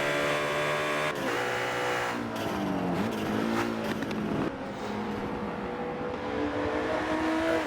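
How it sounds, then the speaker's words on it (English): Porsche race car at full speed on the Road America straight in a Michelin Pilot Challenge race, a loud close engine roar with rising revs and sharp gear changes, other engine tones layered underneath. "That Porsche just so fast in the straight line."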